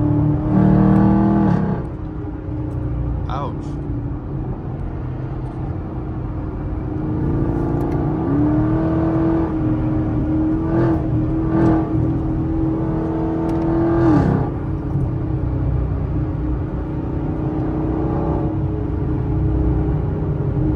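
Chevrolet Camaro Super Sport engine rumbling and revving from inside the car while driving, a steady loud drone with rising rev pitches and sustained throttle holds, no talk over it.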